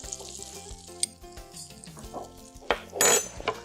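Butter melts and sizzles in an Instant Pot, with a steady frying hiss, a light clink of a utensil and a louder burst of stirring or sizzle near the end.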